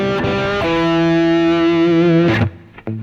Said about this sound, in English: the more you add vibrato, the more this distortion of the sound comes out